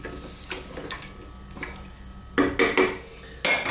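A pot of lamb and potato curry with chunky potatoes being stirred, the spoon scraping and clanking against the pot in several bursts, louder knocks toward the end, close and alone without talk.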